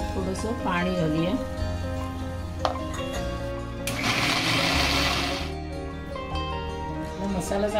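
A mixer grinder whirs steadily as it grinds roasted onion and coconut with a little water into masala, the motor drone swelling into a rougher burst midway, with a person talking over it throughout.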